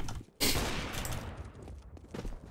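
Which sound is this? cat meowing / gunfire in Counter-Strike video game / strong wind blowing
gunfire in Counter-Strike video game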